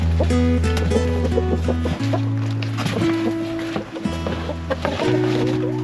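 Chickens are carried out of an off-grid homestead during a wildfire evacuation. They cluck and squawk loudly and continuously at close range, with layered calls from several birds over steady background noise.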